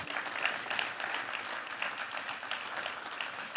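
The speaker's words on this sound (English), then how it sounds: "Thank you, Big round Angela. of applause." A conference audience applauds with dense, continuous clapping at moderate distance, steady across the few seconds with no voices over it.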